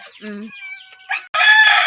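A loud, close rooster crow rings out in a short harmonic call, then cuts into a harsh, noisy final burst.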